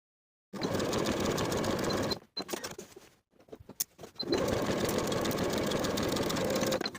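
Sewing machine stitching a jumpsuit pocket seam with a 5/8 inch allowance: a rapid buzzing whir in two long runs separated by a short pause with a few clicks, close and steady.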